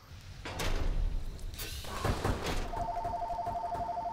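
A telephone starts ringing at the end with an electronic trill, following thumps and knocks from loud game noise.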